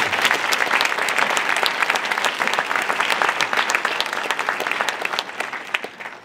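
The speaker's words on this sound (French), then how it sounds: "J'aimerais qu'on les applaudisse très fort, s'il vous plaît." Sustained audience applause at a New Year's greetings ceremony in 2024, dense steady clapping from a full room, loud and close, with no speech over it.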